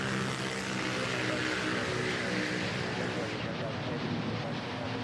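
Airbus A321 airliner at Manila Airport, a loud, steady jet engine roar that fills the whole stretch, close by and continuous, with faint voices underneath.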